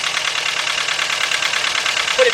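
A Volkswagen engine (Jetta, Beetle or Golf) idles with a cylinder misfire, a close, steady rapid pulsing chug with a slightly uneven beat, running continuously throughout.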